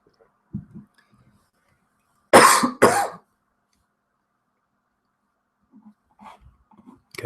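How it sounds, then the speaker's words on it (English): A person coughs twice in quick succession, loud and close, with a couple of faint throat sounds before and after in an otherwise quiet room. "Okay, excuse my coughing."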